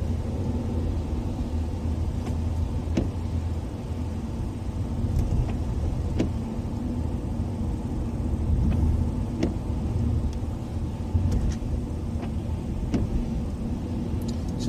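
A car driving on a road at fairly high speed gives a steady engine and tyre rumble from inside the cabin, constant throughout with faint clicks and knocks over it.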